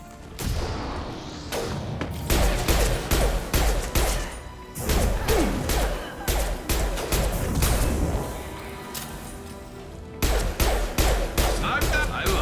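Sniper rifle fire in the video game Mass Effect 2, a run of loud, sharp gunshots with heavy booming impacts and crashes, repeating irregularly amid busy combat effects.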